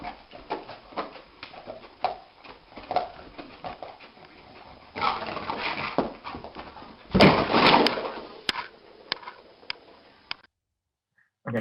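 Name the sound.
dog whimpering and barking in a video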